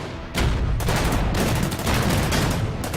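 High-explosive gun fire in the WWII strategy game Order of Battle, Burma Road campaign at Imphal 1944: a dense, continuous barrage of loud booming shots and rumbling blasts rolling on for several seconds with no talk.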